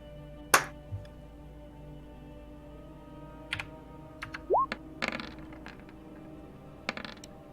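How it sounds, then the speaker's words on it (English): Several dice tumble and clatter in brief scattered bursts during a tabletop World of Darkness role-playing session, with a sharp rattle near the start and further light clicks later against a quiet room. "Oh, I heard a whole bunch of dice."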